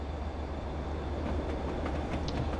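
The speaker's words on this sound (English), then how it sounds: "drive the Queen aboard the Royal Train to her Jubilee celebrations, pulled by the Class 67 diesel electric locomotive" Class 67 diesel electric locomotive hauling the Royal Train in a train simulator game, a steady low rumble of running gear at speed with faint rail clatter, alone and unbroken.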